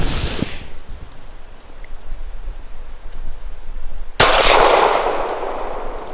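A KelTec PF-9 pocket pistol fires a single sharp, loud shot outdoors after a quiet stretch, followed by a brief echoing decay; an earlier faint crack is heard at the very start.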